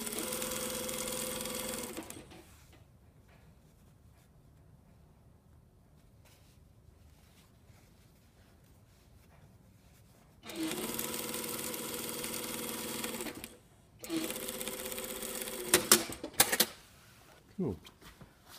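A sewing machine stitches a classic shirt yoke in short, loud whirring bursts separated by quieter stretches, the motor humming steadily during each run.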